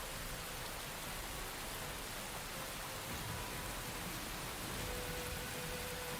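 Steady, dense rain falls in the video game Girls' Frontline, a constant hiss with no pauses and faint music underneath.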